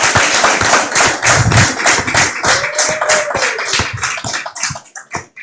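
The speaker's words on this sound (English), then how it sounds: "Shall we give them a round of applause?" An audience claps to welcome a couple onto a hot seat event, a close, loud and somewhat uneven burst of many hands with distinct individual claps, tapering off toward the end.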